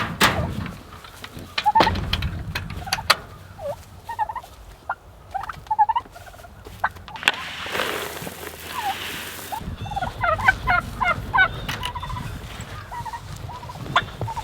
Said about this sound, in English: Come on, turkey, turkey, turkey.